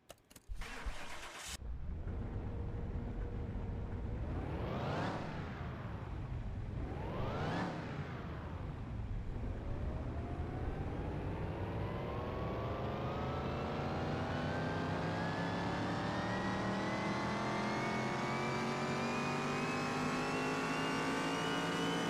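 A video game car engine starts, then revs up hard twice in quick bursts before settling into a steady, loud high-pitched drone on a dyno that climbs gradually, with a synthetic quality.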